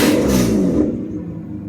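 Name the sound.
1992 Mercedes 600SEL engine revving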